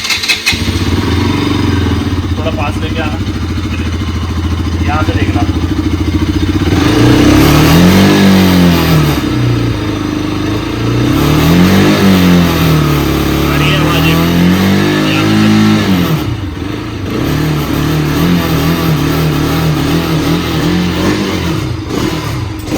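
A Pulsar RS200 or Yamaha R15 motorcycle starts and revs, its loud steady engine drone rising and falling in several throttle blips, with people talking over it close by.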